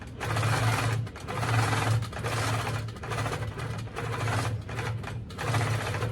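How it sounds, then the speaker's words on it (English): A Handi Quilter longarm quilting machine stitches a tote bag, its loud rapid mechanical chatter running in bursts with brief pauses between passes, close and alone. "Some double stitching over that center to make sure that's going to hold good."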